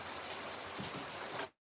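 Steady rain falling outdoors in Louisiana, a dense, even hiss of drops close by that runs continuously before cutting off abruptly near the end.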